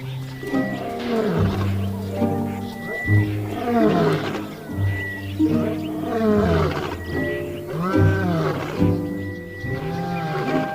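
Several lions roar in long, deep, rhythmic bouts during the dry season beside a river, loud and close, with overlapping calls repeating across the whole stretch and no talk.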